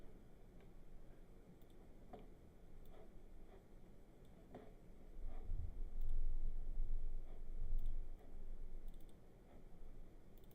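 Sparse, light keyboard taps on a computer running Maya, spread out over a low background rumble that swells in the middle.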